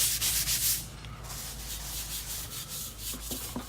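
A brass brush scrubs rust off terracotta tile treated with acid, giving a steady close-up rubbing and scraping with a few sharper scratches near the end.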